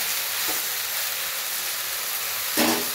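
Chopped fenugreek (methi) leaves sauté in a hot pan, a continuous bright sizzle and hiss with two soft stirring scrapes, one early and a louder one near the end, no one talking.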